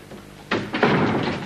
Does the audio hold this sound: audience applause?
no